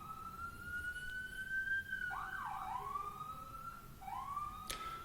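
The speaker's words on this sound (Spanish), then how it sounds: "vamos a esperar que la amiga ambulancia termine de pasar" A distant ambulance siren sweeps past, its wailing tone rising and falling and shifting pitch as it goes by, set against a low hum of background noise.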